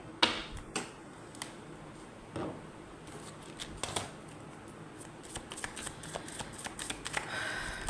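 Tarot cards shuffled by hand at close range, a steady stream of quick riffling flicks and soft slaps that grows busier toward the end, with no talk over it.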